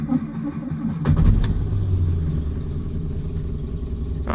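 The engine of a 1955 Austin A40 Cambridge cranks briefly on a cold day and fires straight up, then settles into a steady, smooth idle close by.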